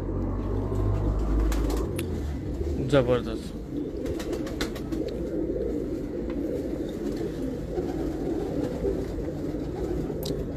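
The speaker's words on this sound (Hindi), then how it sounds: "कमगर कबूतर है" Kamgar breeder pigeons coo softly in a loft while people talk nearby, the brief throaty coos sitting under the voices and steady background noise.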